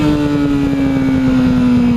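Motorcycle engine droning steadily through a rough downshift, a loud sustained tone that sags slightly in pitch across two seconds with no voices.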